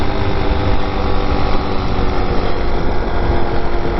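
Zongshen 5-speed 190cc engine swapped into a TaoTao Hellcat running through its exhaust, a loud, close, continuous buzzing drone with steady low rumble and no talk.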